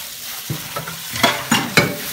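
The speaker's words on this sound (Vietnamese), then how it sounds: "Bây giờ mình trộn lại cho đều thịt xay với lại tôm" Ground meat and shrimp with pepper and green onion being mixed by hand in a bowl, giving several soft wet squelches and stirring thuds in quick succession, close and fairly quiet, with no talking.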